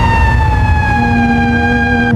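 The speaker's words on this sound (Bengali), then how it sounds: "প্রতি রাতেই শোনা যায় অ্যাম্বুলেন্সের ডাক" An ambulance siren wails close and loud as one long, sustained tone that sags gradually in pitch, over a low rumble.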